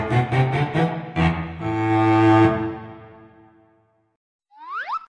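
Double bass notes played alone: a quick run of short low plucks, then a longer note ringing and slowly dying away, followed by a brief cartoonish sliding sound effect.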